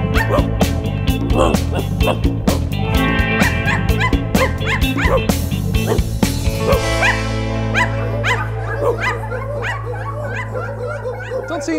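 Voices of a children's show host and performers imitate a dog, with a quick run of yips, barks and whimpering sounds, loud and close, followed by lighter playful vocal yelps over a sustained musical backing.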